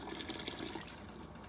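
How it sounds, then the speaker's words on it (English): Water pours steadily into a canning pot holding jars for home-canned cream cheese, a faint continuous splashing and trickling with no talking. "So I'm going to add a little bit more water."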